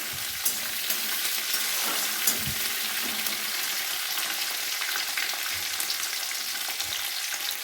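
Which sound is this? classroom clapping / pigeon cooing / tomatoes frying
tomatoes frying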